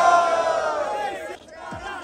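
An audience at a rap battle roars and cheers together, a loud, close wall of shouting voices that swells and then dips briefly before rising again.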